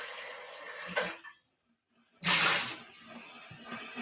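Tap water rinsing out a Chemex coffee maker in a kitchen, bursts of splashing running water that stop briefly into silence, then gush again loudly close by.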